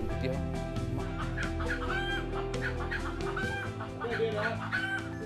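Chickens cluck in short repeated bursts over a steady musical backing, the calls coming close and fairly loud throughout.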